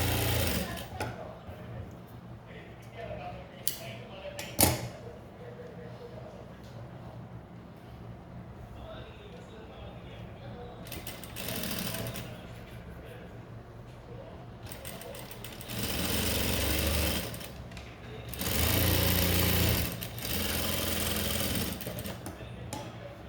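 Sewing machine running steadily as it stitches lining fabric for a blouse, a continuous mechanical hum with bursts of faster sewing toward the end.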